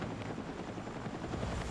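A helicopter in the multiplayer mode of the video game Battlefield 6 gives a steady, close rotor and engine drone that runs unbroken through the whole moment.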